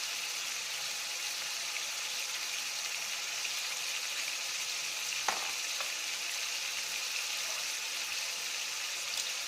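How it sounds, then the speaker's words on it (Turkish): Tomatoes sizzle steadily in a hot pan, a constant crackling hiss with an occasional soft clink of a utensil. "Bakın domatesler kızarıyor."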